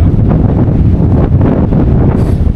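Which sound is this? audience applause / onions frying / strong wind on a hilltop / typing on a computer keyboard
strong wind on a hilltop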